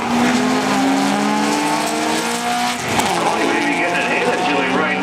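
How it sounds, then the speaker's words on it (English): A 1994 Honda Acura drag race car accelerating hard down the strip, its engine rising in pitch and dropping at each gear change, loud and sustained beneath an announcer's voice. "He's rolling through the gears in that Honda."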